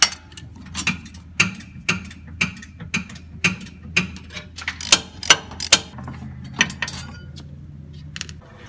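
A ratchet backs out the 15 mm brake caliper bracket bolts on a Ford Ranger, giving a close series of sharp, fairly regular metallic clicks that bunch into quicker bursts midway, over a low steady hum.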